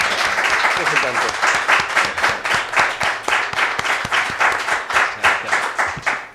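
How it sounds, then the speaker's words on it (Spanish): An audience at a book presentation claps in unison, a rhythmic, fairly loud pattern of synchronized hand claps repeating steadily throughout, with some crowd murmur underneath. "muchas gracias y pido un aplauso para nuestro"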